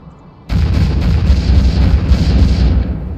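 Cannons fire in Stormworks, a sudden heavy boom followed by a loud, sustained barrage of rapid pulsing blasts that rolls on for a few seconds before cutting off.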